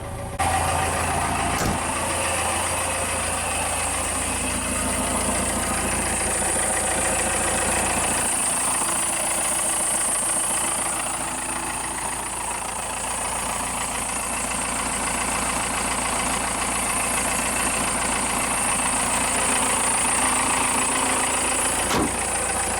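A Cummins diesel engine swapped into a Ford F150 idles steadily and loudly for the whole stretch, a continuous low rumble with a faint knocking clatter and no talk.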